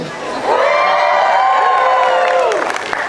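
A circus show audience cheers and shouts loudly together, a sustained crowd roar with high children's voices rising and fading over about two seconds.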